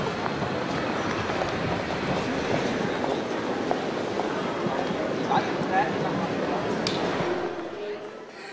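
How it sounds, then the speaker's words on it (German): A Bern-Neuenburg-Bahn railcar hauls a rare train out of the Bern-Ausserholligen depot, giving a steady, dense rolling rumble with faint wheel clatter that eases toward the end. "Hier zieht ein Triebwagen der Bern-Neuenburg-Bahn aus dem Depot Bern-Außerholligen eine Rarität."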